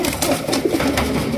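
A Raj Golla pigeon coos steadily up close, its low throaty calls repeating without pause over faint background noise.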